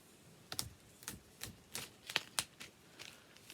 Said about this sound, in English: This paper will do some ASMR stuff.